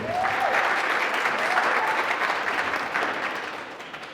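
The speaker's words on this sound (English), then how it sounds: "So give Dylan a round of applause, ladies and gentlemen" A crowd applauds with steady, dense clapping that gradually fades toward the end, a few cheers rising over it.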